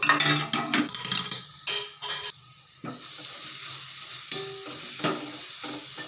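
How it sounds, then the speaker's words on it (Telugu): Grated carrot frying in ghee in a pan, stirred with a spoon or ladle; close scraping strokes and short bursts of clatter over a steady sizzle, with no talking. "క్యారెట్ని అయితే వేసుకుందాము వేసుకొని బాగా ఫ్రై చేసుకోవాలన్నమాట"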